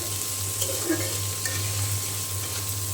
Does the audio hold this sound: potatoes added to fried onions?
yes